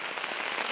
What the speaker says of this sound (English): It started raining on us.